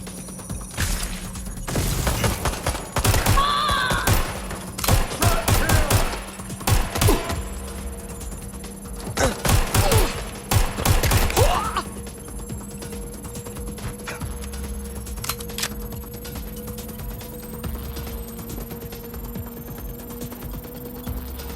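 Gunfire crackles during a shootout in the video game Watch Dogs Legion: clusters of sharp, rapid shots in two main bursts over the first half, then a quieter stretch with scattered mechanical clicks and a low hum.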